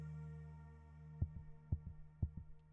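Heartbeat sound effect in a narrated suspense story: three soft, evenly spaced double thumps, low and muffled, over a quiet hum.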